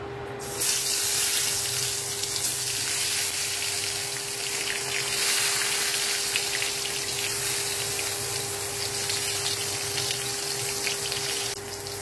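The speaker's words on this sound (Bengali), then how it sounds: "তেল গরম হয়ে গেছে, এবারে বেগুনগুলো দিয়ে দেবো।" Steady, loud broadband hiss of eggplant slices frying in hot oil, continuous throughout with no voices, a constant hum underneath.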